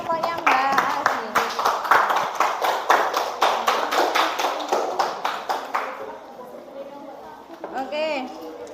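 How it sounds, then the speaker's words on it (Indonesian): A classroom of students claps for a student group after its presentation, a burst of sharp, fairly close handclaps that thins out after about six seconds, with a voice speaking near the end. "Tepuk tangan kelompoknya Mbak Asi."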